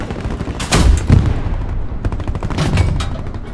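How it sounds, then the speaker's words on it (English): A German tank's main gun fires an armor-piercing round in the World War II shooter Hell Let Loose, giving a loud close boom that rolls out, followed by a second heavy blast about two seconds later over steady battlefield rumble. "That was an AP round."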